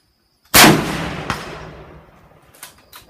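A Remington M91 Mosin rifle fires a single loud, close shot at an outdoor gun range, its boom decaying into a long echo, followed by faint distant cracks.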